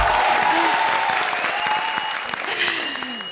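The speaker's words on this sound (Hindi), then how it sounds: "बजाओ ताली इसी बात पे।" Studio audience applause on an Indian comedy circus show, a loud sustained burst of clapping that gradually tapers, with a few voices faintly over it.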